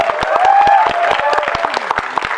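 Audience applause for actor Joju George at a film press meet in Kerala, steady clapping from a crowd filling the whole stretch, with a voice heard faintly beneath it.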